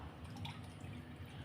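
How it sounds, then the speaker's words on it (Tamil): Boiled milk poured from a cup into a bowl, a steady close liquid splash and trickle heard alone for a second and a half. "அதே கப்பால் ஒரு கப் அளவு பால் சேர்த்துக்கிறேன்"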